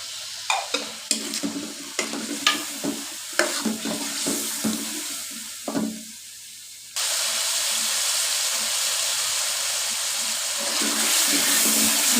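Carrots and potatoes hit hot oil in a pan for a mixed vegetable curry, with a run of stirring clatters, then a loud, steady sizzle and hiss that keeps building.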